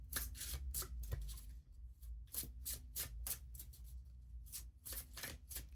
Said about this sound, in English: We're going to pull, I would say I'm getting 4 tarot cards.